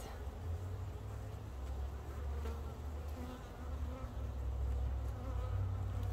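Honey bees swarm over a comb bar lifted from a nearly swarming top bar hive during a split, filling the air with a steady, close, droning buzz that rises and falls slightly throughout.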